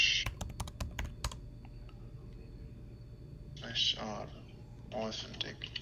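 Keyboard keys clatter in a quick burst of typing while a chat command is entered in an online card game, followed by quieter scattered keystrokes and brief bits of speech.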